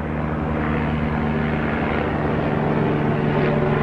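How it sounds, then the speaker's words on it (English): A propeller airplane drones overhead with a steady low engine hum and tonal buzz, loud and close, swelling slightly as it passes, with no other sounds over it. "Seriously, airplane?"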